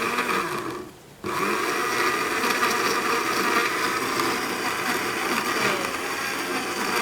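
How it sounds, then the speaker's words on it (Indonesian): A blender runs steadily, crushing banana, dragon fruit and ice for a smoothie bowl, loud and continuous with a brief dip in the motor sound near the start. "setelah kita blend buah pisang dan buah naganya"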